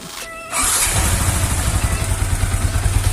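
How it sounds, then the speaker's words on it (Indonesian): A used motorcycle is started with the electric starter after a brief quiet moment, then its engine fires at once and settles into a loud, steady, close idle. "ini tuh hanya tinggal dihidupkan, lalu kita starter"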